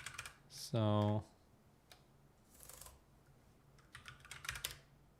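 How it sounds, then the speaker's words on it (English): Typing on a Raspberry Pi 400 keyboard: a few short clusters of light plastic key clicks, quiet and close, with a brief spoken word and a loud tonal beep near the start. "I got a few double key hits as well"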